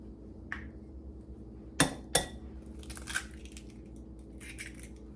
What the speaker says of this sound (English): I'm going to break 2 eggs